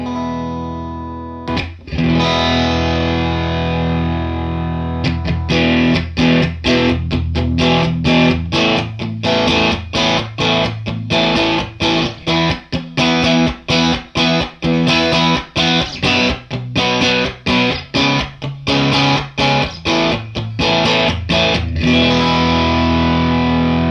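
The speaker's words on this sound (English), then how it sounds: "this is an op amp inspired, kind of more of a high gain kind of a tone" An electric guitar through a Hungry Robot Pedals BumbleBee op-amp-style high-gain overdrive pedal chugs through heavily distorted riffs with rapid palm-muted strums and sustained crunchy chords, loud and continuous.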